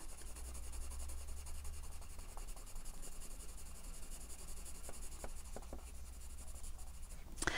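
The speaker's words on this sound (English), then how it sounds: "So I'm being fairly neat about this colouring" Coloured pencils rubbing steadily across paper while colouring in a stamped image, a soft continuous scratchy stroking at close range with no talking.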